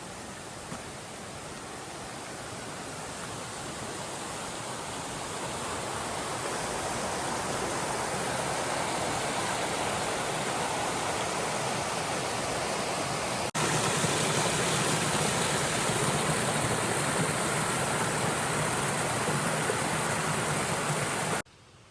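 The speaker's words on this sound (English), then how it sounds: "Beautiful creek down here." A creek in Susquehannock State Forest, Pennsylvania, rushes steadily nearby on a rainy day, a loud, continuous broadband wash of flowing water with no voices, cutting off abruptly at the end.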